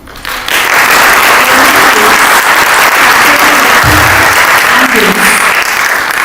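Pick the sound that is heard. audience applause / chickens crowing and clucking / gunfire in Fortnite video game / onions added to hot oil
audience applause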